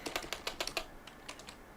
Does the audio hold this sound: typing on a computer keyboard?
yes